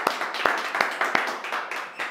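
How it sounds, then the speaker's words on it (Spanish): A studio audience at a comedy television show applauds, a steady patter of many hands punctuated by a few sharp, close claps throughout. "Fuerte el aplauso."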